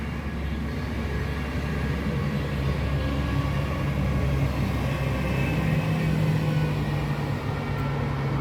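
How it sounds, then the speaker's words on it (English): A water truck hosing down the road during road works, a steady close rumble of engine and spraying water running unbroken throughout with no talk. "Oh, I've got the water truck coming down, we're hosing the road."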